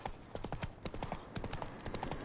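Hoofbeats of the horse Roach galloping in The Witcher 3, a steady, loud clip-clop rhythm of repeated hoof strikes close by, with no talk over it.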